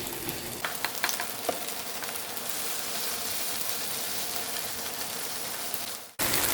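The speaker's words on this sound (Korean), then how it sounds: "모양을 잡아가면서 굽도록 하세요." Spoonfuls of thin Korean jeon batter, including chive and hot pepper pancakes, fry in an oiled pan with a loud, steady sizzle and crackle that runs alone without a break, then cuts off abruptly near the end.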